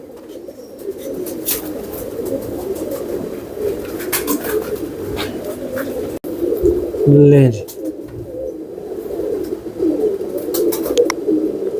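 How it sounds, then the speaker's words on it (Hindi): Pigeons on a rooftop loft coo nearby in low, throaty bursts, with one clear coo near the middle. Someone talks over much of it, and faint chirps and outdoor noise sit in the background. "ये कबूतर है जिनको कहते हैं कबूतर।"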